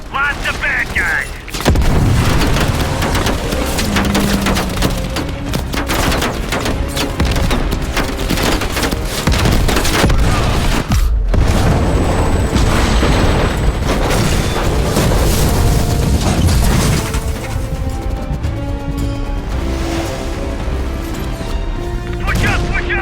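Heavy combat gunfire and explosions fill the whole stretch, loud and continuous, with booming blasts layered over rapid shooting, under shouted voices.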